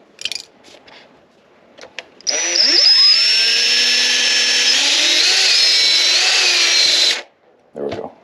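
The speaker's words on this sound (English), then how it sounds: "I don't want to drill all the way through." A power drill runs steadily for about five seconds, loud and close, boring into a Lexus IS F steering wheel during a carbon-fiber wheel install, with brief handling noises before it starts and after it stops.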